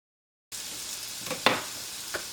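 Dinner sizzling in a frying pan on a home stove, with carrots among the food: a steady soft hiss after a brief silence, broken by a couple of faint clinks or pops, no talking.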